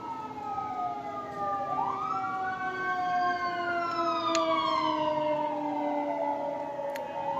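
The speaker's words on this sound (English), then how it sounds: "Ambulance is just ruining this video." An ambulance siren wails and sweeps up and down in pitch as it passes, steady and fairly loud over road noise, with no talking.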